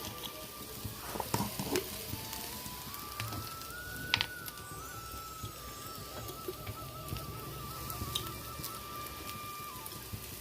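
Spices crackle and sizzle steadily in a hot pan, a faint patter like light rain running throughout, with a thin tonal whine in the background and a few louder pops near the start.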